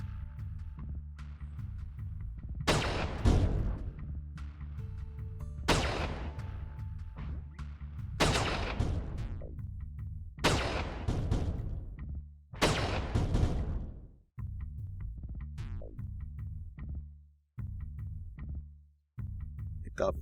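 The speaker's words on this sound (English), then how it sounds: "My turrets are aiming at the starter base." Turrets firing in TerraTech: five or six heavy booming shots spaced a few seconds apart, each a loud burst that fades out over a constant low mechanical hum.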